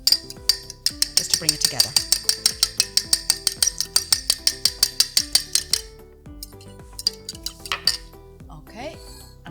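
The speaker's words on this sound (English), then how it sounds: "we can give that a little whisk now" A whisk beats an oil-free salad dressing in a bowl, a fast run of about twenty sharp metallic clinks against the sides, then slower scattered taps as a voice talks over the end.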